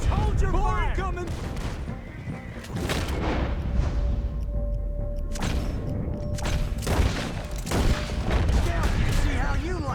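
Gunfire from a Red Dead Redemption 2 shootout, a mix of sharp shots and heavier booms scattered through the scene, loud against a busy game soundtrack with voices shouting over the exchange.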